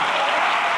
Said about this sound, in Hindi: एक अच्छी ताली तो होनी चाहिए।